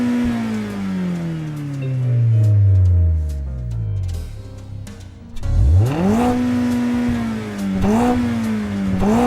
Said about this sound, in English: that very spirited noise, speaking of feeling fast without a lot of power, goes to this here, the Mazda Spirit Racing Roadster 12R